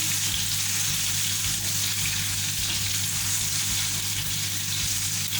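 Garlic frying in oil over a low flame, a continuous soft sizzle and crackle with a steady low background hum, no voices.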